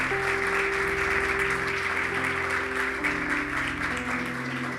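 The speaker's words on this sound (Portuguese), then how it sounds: "Dá uma salva de palmas para esses voluntários, né?" Steady applause from a crowd fills the space, continuous and even throughout with a faint hum underneath.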